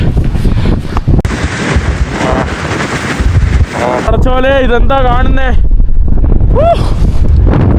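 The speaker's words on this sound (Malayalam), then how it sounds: "ഓ നല്ല കാറ്റ് വീശുന്നുണ്ട്" Strong wind in the Mongolian desert buffets the microphone with a steady, loud rumble while people talk and exclaim over it.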